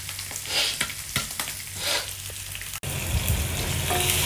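Spring onion and parsley sauté in a hot pan for a Filipino squash soup, a dense close sizzle with a few stirring scrapes, broken by a momentary cut before the frying resumes.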